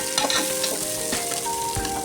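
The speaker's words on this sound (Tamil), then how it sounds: "நெக்ஸ்ட்டு மிளகு போட்டுக்கலாம். சீரகம் இதெல்லாம் போட்டு ஒரு வதக்கி விட்டுறணும்." Black pepper and cumin sautéing in a pan for rice and dal, a close, busy sizzle with scraping stirs and clicks of the spatula, continuous and fairly loud with no voices.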